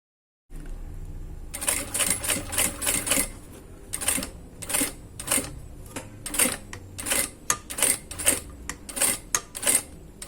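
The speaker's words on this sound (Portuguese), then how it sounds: "Agora sim, eu passo a costura em toda a minha peça." A sewing machine stitching around a wallet runs in quick bursts of rapid clicking and whirring, pausing between runs, loud and close, with no talking.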